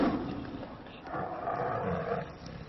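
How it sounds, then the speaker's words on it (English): A tiger roars at Heathrow airport, unfed since leaving Greece, a low rumbling roar that swells and fades over steady background noise for a few seconds. "The tiger hasn't eaten since leaving Greece."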